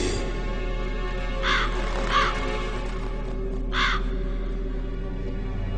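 Crow cawing in the video game Metal Gear Solid, three distinct harsh caws spaced apart over a steady low background hum.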